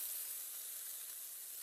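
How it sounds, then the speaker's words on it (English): Pork chops brown in a pan with a steady, bright, hissing sizzle that stays even and close for the whole moment, with no voices over it. "after we get these pork chops browned, which is what we're doing right now"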